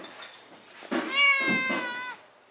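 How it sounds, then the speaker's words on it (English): A kitten lets out a single drawn-out, whiny meow up close, preceded by soft rustling, outdoors on a windy, cold day. "What a whiny meow."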